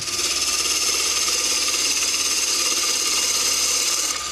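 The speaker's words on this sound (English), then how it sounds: "I put the flute out, I pull the handle around, and I let it do the cutting." A wood lathe turns steadily as a roughing gouge makes a push cut, giving a continuous loud, close whirring shave with a constant hum beneath it and no pauses.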